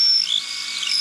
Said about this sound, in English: I think that was a 5/16 drill bit.